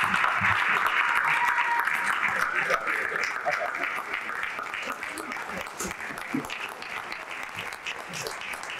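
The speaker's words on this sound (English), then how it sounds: "let's continue to clap for our councilwoman and its queen" An audience claps loudly for a councilwoman at the close of a ward's state of the ward address. The applause is strongest at first, then thins and softens slightly while people talk over it.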